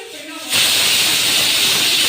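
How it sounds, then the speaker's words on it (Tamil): A pressure cooker whistle on a stove, cooking bottle gourd sabzi with salt and water, bursts into a loud, steady hiss of escaping steam after a brief quiet moment and keeps blasting without a break. "3 விசில் வைக்கட்டும்."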